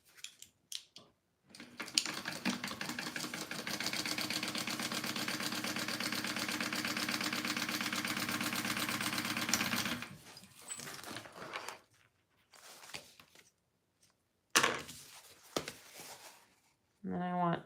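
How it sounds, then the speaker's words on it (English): A sewing machine top stitches a waterproof canvas crossbody bag, running in a steady mechanical whir for about eight seconds, then in shorter bursts and clicks, close up. "All right, I'm going to top stitch this."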